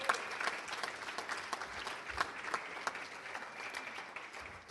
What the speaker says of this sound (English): Would you give Harris a great round of applause for that support?